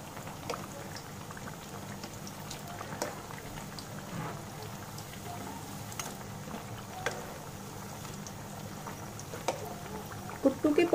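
Kuttu (buckwheat flour) pakoras frying in hot oil over a medium gas flame, giving a steady soft bubbling sizzle with scattered pops that runs for the whole stretch and swells a little louder near the end.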